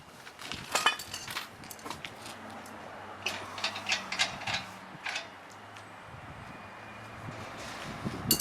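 A ratchet tightens bolts on a scooter rack with bursts of clicking pawl action and creaks, close by, interrupted by pauses and a low mechanical hum.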